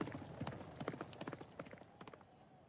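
A horse galloping in a video-game race, its hoofbeats coming as quick, uneven clip-clops at moderate distance with no talk over them.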